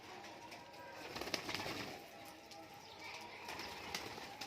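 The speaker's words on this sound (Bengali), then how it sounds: "সব গিরিবাজ হাই ফ্লায়ার পায়রা রয়েছে" Giribaz high flyer pigeons coo softly inside a loft, a faint, steady murmur of calls with occasional rustles and wing sounds.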